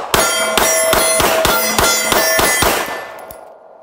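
Pistol rounds ring off steel targets at an outdoor shooting range, roughly eight sharp metallic clangs fired in a quick, fairly even string, each leaving a bright ringing tail that fades out after the last hit.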